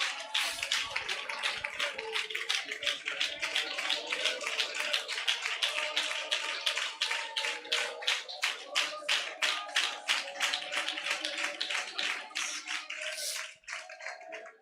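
Congregation clapping hands in rhythm during a church worship service, dense fast steady claps continuing for the whole stretch, loud and close, with a brief dip near the end.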